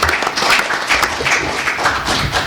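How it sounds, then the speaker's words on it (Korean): Audience applause welcomes a speaker about to read a founding declaration at a press conference launching a civic alliance, a dense, steady patter of many hands sustained throughout, fairly close and loud. "큰 박수로 환영해 주시기 바랍니다."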